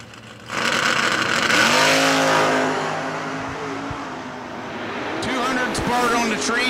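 Drag race cars roar off the line in a heads-up race, a loud sustained engine blare with rising pitch as they accelerate away, under an announcer's voice.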